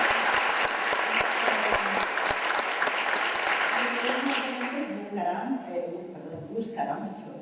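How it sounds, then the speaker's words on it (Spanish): Audience applause for presenter Marta at a game cinematics and trailers event, dense steady clapping filling the room before thinning out and fading as a voice starts speaking near the end. "Un aplauso para ella."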